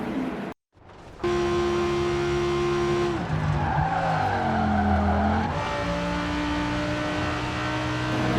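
An Audi R8 V10 Plus braking hard in the Forza racing game, with a loud, sustained V10 engine tone dropping in pitch as the revs fall, plus tire squeal. It comes after a brief cut to silence near the start.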